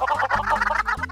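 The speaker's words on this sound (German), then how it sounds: "Oh nein, die Hühner sind ausgekommen." Minecraft chickens clucking in a rapid, close run of short calls over low game background tones, alone without talk.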